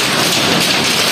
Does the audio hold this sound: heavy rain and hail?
yes